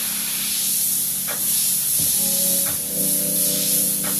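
Airbrush spraying paint onto a T-shirt, a steady close hiss running throughout with short tonal hums and faint clicks from the gun.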